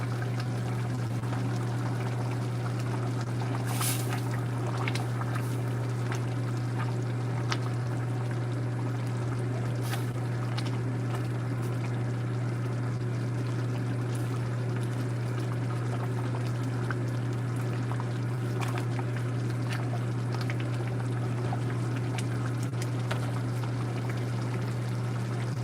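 A pot of chili bubbles on a stove, giving a soft, continuous simmering wash with a low steady hum beneath and occasional faint pops, with no talking.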